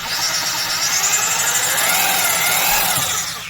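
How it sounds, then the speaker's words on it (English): An old 1200 watt Milwaukee Sawzall runs close up, a loud, steady motor whine with a geared buzz that holds for about three seconds before spinning down. "Here we have an old 1200 watt Sawzall."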